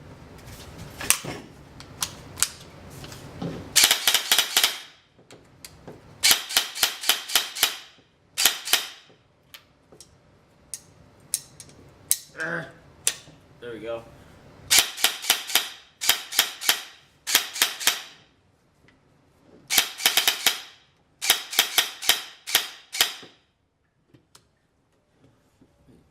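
An ARP 9 airsoft gun fires in rapid bursts of sharp clicking shots, several separate volleys with short pauses between them, close and loud, with a few spoken words in between.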